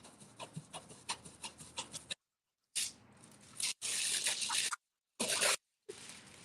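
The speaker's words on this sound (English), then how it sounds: "This little toothbrush seems to be getting the job done." A small toothbrush scrubs over a foiled Christmas door hanger, rapid close bristle rubbing in quick strokes, broken by brief pauses between bursts.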